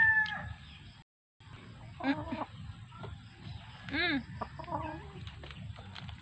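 Chickens cluck in short bursts close by, with a few higher squawks, over a low rumbling background; no clear talk.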